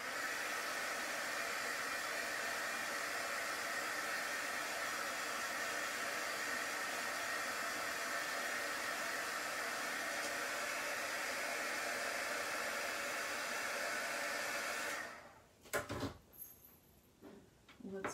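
A hair dryer blows steadily and loud on a floral arrangement of pine swags for mini sleds, a broad continuous rush that cuts off near the end, followed by a few clunks and handling noises.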